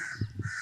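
Crows caw near a quiet Thai elephant temple in Kamphaeng Phet, two or three short, harsh calls close by over a soft background hiss.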